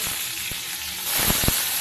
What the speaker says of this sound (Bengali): দিয়ে দেবেন উচ্ছেগুলো এই ফোড়ন আর আদা বাটার সঙ্গে ভালো করে ভাজা ভাজা করে নেবেন